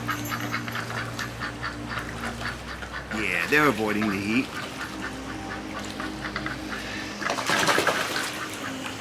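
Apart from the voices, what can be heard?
ducks in a pond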